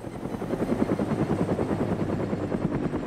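A video game helicopter's rotor thumps loud and close overhead in DayZ, a dense rapid chopping with a steady engine whine, no voices.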